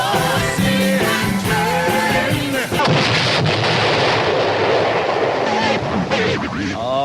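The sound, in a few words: magic cannon sound effect on a radio show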